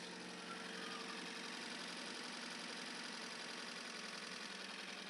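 A Datsun 510 engine idles steadily just above 1,000 rpm, a constant, even mechanical hum heard up close and alone, with no changes in pitch or level.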